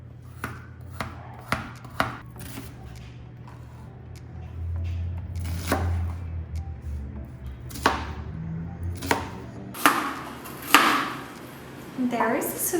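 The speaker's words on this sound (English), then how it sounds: "I'm just chopping some onions and carrots to put underneath." Onions and carrots being chopped with a knife on a cutting board, a series of sharp, irregular chops spread over several seconds, some in quick bursts, with a faint low background hum.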